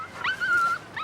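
A dog lets out one close, high-pitched whimper, a thin drawn-out whine that rises and then holds before tailing off, followed by a short second yelp at the end.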